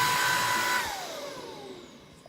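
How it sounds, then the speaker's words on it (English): Shark Duo Clean vacuum cleaner runs with a loud steady whine, then its pitch drops and the noise fades as it powers down, with no talking. "I'm just going to hoover."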